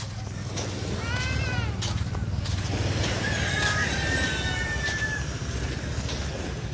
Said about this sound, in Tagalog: Yan, ang kabayo.